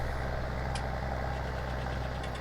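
A tractor engine idles steadily in a farming survival video game, a continuous low, even drone heard alone with no speech.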